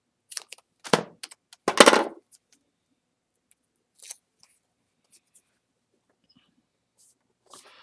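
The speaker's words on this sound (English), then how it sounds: "So I'm just gonna put a little piece of tape in the corner." A small piece of tape pulled and torn off for a mini photo album, two quick sharp ripping bursts close up, followed by faint scattered crinkles in near silence.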